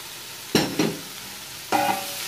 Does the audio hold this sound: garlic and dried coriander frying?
yes